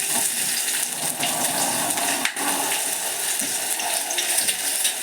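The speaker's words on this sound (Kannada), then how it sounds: "ಫ್ರೈ ಮಾಡೋಣ ನಾವು. ಇವಾಗ ನಾನು ತೆಂಗಿನೆಣ್ಣೆ ಹಾಕ್ತಾಯಿದ್ದೀನಿ." Onion frying in about two tablespoons of coconut oil in a pan, giving a steady, dense hiss and crackle that runs continuously and fairly close, with no talk over it.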